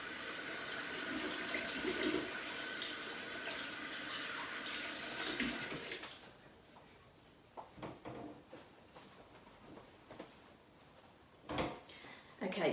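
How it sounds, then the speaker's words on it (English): Water runs steadily from a kitchen tap as hands are washed during cheese scone baking. It gives a loud, continuous hiss for about six seconds, then stops, and quieter knocks and handling noises follow. "I'll just wash my hands, even though they're going to get messy again."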